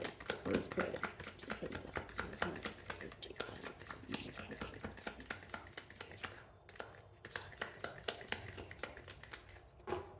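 A tarot card deck being shuffled by hand, with repeated crisp riffling and tapping in close, quick bursts, sometimes with soft talk nearby.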